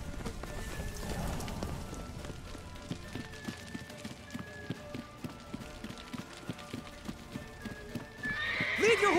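Hooves pound in a fast, regular galloping rhythm in the video game The Witcher 3, then a horse neighs loudly near the end.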